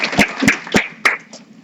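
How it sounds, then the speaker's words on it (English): A few scattered hand claps from a small audience at a health policy event, four or five distinct sharp claps spaced unevenly over a second and a half, close and moderately loud with no talk. "just a quick round of applause and thank you for being here today"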